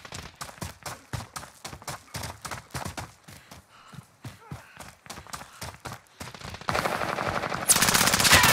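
Rapid bursts of automatic gunfire during a trio match in the video game Champions Caldera. The shots come in quick repeated volleys, and the sound grows denser and louder toward the end. A voice is faintly heard between the bursts.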